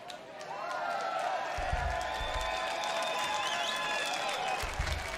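A concert audience at a show claps and cheers for a new song, dense sustained applause with whistles and shouts throughout, and someone talks over it.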